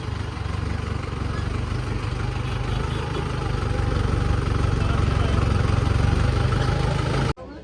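A tractor engine idles nearby in a parking area with a low, steady rumble that holds constant, then cuts off abruptly at the end.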